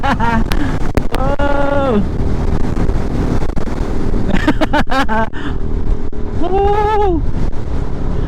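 Strong wind buffets the microphone throughout at a roadside viewpoint on the Nueva Vizcaya–Pangasinan road, with a couple of loud exclamations and a horn-like tone sounding twice in the background.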